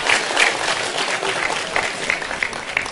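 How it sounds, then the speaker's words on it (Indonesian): A crowd at a Cak Nun religious lecture gathering claps together in a sustained, fairly loud burst of applause, uneven hand claps rippling through the hall. "Tepuk tangan untuk beliau."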